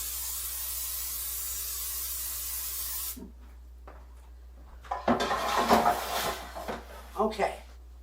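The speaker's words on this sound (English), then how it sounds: "I've got to spray my pans real quick" A steady aerosol hiss of cooking spray runs for about three seconds, then stops, followed by clattering pans and handling noises close by.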